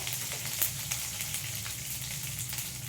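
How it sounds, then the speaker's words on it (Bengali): Spices frying in oil for a mutton kofta curry make a soft, steady sizzle with light crackles and a few sharper pops, close by and with no talking. "দিয়ে আমি একবার ভালো করে মশলাটা ভেজে নেব।"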